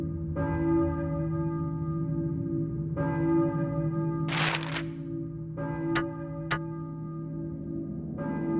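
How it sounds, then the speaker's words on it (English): Slow, resonant church bell strikes toll at regular intervals in the PS1 horror game Silent Hill, each ring sustaining and decaying, with a few short sharp clicks and a brief noisy burst between them. "Sounds like a church bell."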